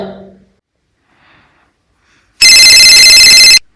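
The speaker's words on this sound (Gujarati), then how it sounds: "એલા તારો ફોન વાગે છે" A telephone rings loudly in one sustained burst after a near-silent stretch, preceded by a brief murmur of voice.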